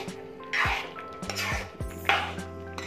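Coriander being stirred into a potato and cauliflower curry in a pan, heard as a few irregular scraping and clattering strokes of a spoon against the pan, close and fairly quiet.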